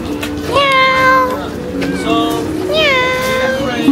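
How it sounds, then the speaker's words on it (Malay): A cat meows several times in a pottery-making workshop in Cappadocia, Turkey: drawn-out, rising and falling cries close by, with a short pause between them over a faint indoor background. "Kucing."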